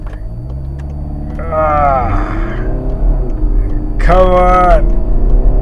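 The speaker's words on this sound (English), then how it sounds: "And I'm going to floor the car." 2019 Volkswagen Tiguan 2.0 TDI diesel floored in sport mode, engine pitch sweeping upward through a gear, dropping at a shift, then climbing hard again, close and loud with a voice speaking briefly over it.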